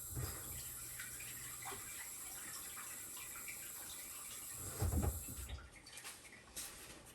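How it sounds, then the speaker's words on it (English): Water runs steadily from a tap into a measuring cup, a soft continuous splashing close by, with a brief louder gush near the end before it stops. "I'm going to add a smidgen of water to the top of that to finish off the 3 cups"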